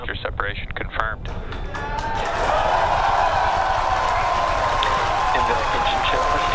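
A voice speaks briefly over the rumble of a SpaceX Falcon Heavy launch, then a large crowd erupts into loud, sustained cheering and applause that continues to the end.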